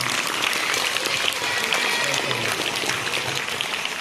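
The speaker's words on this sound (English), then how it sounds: "Let us clap our hands." A crowd of schoolchildren claps together to honour newly chosen student ministers and captains, a dense steady patter of many small hands that holds at an even level for the whole stretch.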